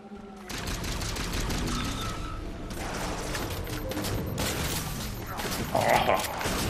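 Gunfire in the Halo 4 campaign: dense bursts of rapid automatic shots and scattered explosions fill the clip continuously, with a louder blast near the end, while voices talk over it.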